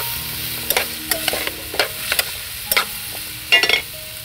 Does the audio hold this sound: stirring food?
yes